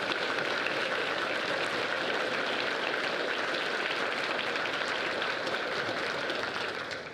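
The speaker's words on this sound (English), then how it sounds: "Please congratulate our recipients with a round of applause." A steady wash of audience applause at a high school's underclassman awards ceremony fills the room evenly for about seven seconds, honoring the award recipients, then begins to fade at the end.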